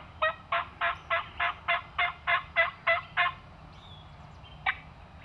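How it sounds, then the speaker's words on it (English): A wild turkey gobbles on a morning farm hunt, a rapid run of about ten rattling notes followed by one brief call, carrying clearly over a low background hum. "We hear our first gobble of the morning."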